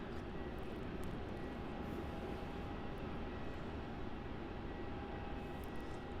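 A China Airlines Airbus A350 landing at Melbourne Airport, heard as a steady, broad, moderately loud jet roar that holds level throughout with a faint tonal whine, alone with no talk.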